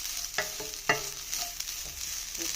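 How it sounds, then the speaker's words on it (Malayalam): Grated coconut fries in a pan for a Kerala snack, a soft continuous sizzle broken by a few sharp scraping stirs, close and alone. "തേങ്ങ വറുക്കാൻ വെച്ചിട്ടുണ്ട്"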